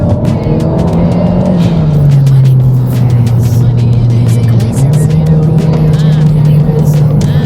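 A little BMW on a race track during a track day drives hard, its engine holding a loud droning note that dips and rises as it shifts, with tire and wind noise heard from inside the car.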